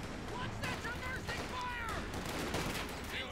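Mortar blasts and machine gun fire from the Company of Heroes 2 video game sound throughout: bursts of gunfire and thuds under a continuous layer of battle noise and overlapping speech.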